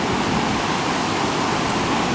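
Ocean waves wash steadily onto a beach in a continuous, even rush of surf noise, with no voices.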